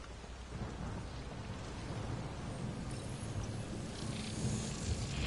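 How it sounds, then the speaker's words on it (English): Steady rainfall with rolling thunder in an alien world of Mass Effect Andromeda, a continuous wash of rain and low rumbling building slightly toward the end, faint and unbroken with no voices. "It's raining."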